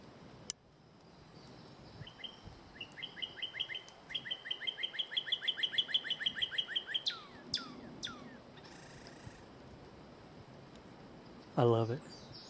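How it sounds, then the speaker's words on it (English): Bird singing in a mountain forest at Morrow Mountain, a long accelerating series of bright repeated notes rising in volume, then a few trailing calls and a brief voice near the end. "there's a bird just having Sunday church up there singing somewhere"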